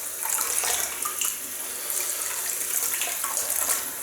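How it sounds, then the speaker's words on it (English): Hot water running steadily from a bathroom tap for a wet shave with a lather soap, a constant close splashing hiss with small fluctuations and no talking. "So, hot water, and I'm just going to wet the top of it,"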